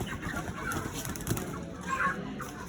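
Chickens at a halal poultry sales centre, scattered clucks and squawks over a busy, noisy background with people talking nearby.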